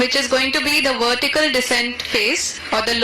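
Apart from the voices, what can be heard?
No everyday noise stands out behind the speech.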